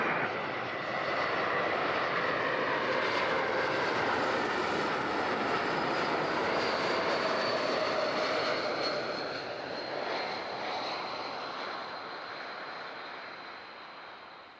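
An airliner at Zurich airport passes with a loud, broad engine roar and rising whine that fills the air, then slowly fades into the distance toward the end.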